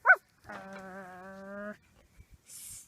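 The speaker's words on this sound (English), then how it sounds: "Stay, little doggy." A dog gives a short yip followed by a sustained, whiny howl-like whimper, close and clear, with a few faint taps and a brief hiss after it.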